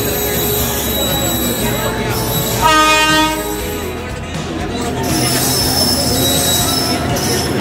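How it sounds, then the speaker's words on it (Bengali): The Hazrat Nizamuddin–Jabalpur Amaravati Express rolls at a station, wheels squealing loudly in a sharp whining burst over a rumbling rail background, with people talking nearby. "সামনে দাঁড়িয়েছে হজরত নিজামুদ্দিন জবলপুর অমরাবতী এক্সপ্রেস।"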